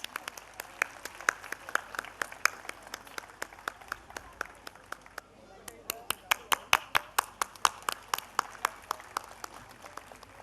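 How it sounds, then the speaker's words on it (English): Parents at a DAV school prize-giving function applaud preschool award winners: a steady stream of sharp, distinct hand claps from a modest audience, fairly close, with a brief dip in the middle before the clapping picks up again, faint talk underneath. "Come on, parents, give them a big round of applause"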